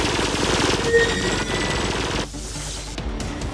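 An automated turret fires at a boss in the shooter game Firefall, a loud, dense, continuous rattle of rapid shots for about two seconds before it drops to a quieter, thinner patter.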